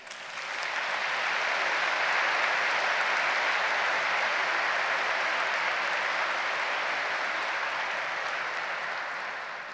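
Applause from a large crowd at a law school commencement ceremony. It is a steady, even wash of clapping that holds for about ten seconds at moderate distance before it begins to taper off.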